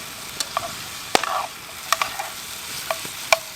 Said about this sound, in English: A bit of onion in here, red onion.